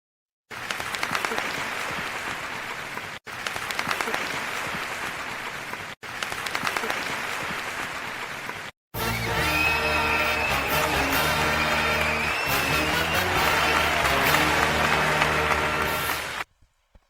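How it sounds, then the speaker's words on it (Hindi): An audience claps loudly for a CA Foundation AIR 9 achiever at a celebration, with three short bursts of applause followed by a longer, sustained round that ends in a few scattered claps. "एक बार इनके लिए वापस से तालियां हो जाए।"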